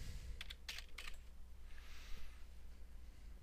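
Fast bursts of typing on a computer keyboard, several quick clusters of clicks near the start followed by softer, sparser keystrokes over a steady low room hum, with no talking.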